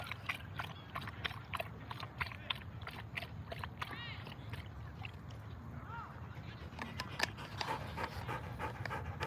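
A dog pants rapidly and steadily in a park, close and rhythmic, with soft wet mouth sounds and a person speaking quietly at times.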